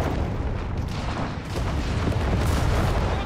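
Stuka zu Fuss rocket artillery of the German Afrika Korps fires in Company of Heroes 3, a dense, continuous roar of launches and blasts that stays loud throughout with no voices.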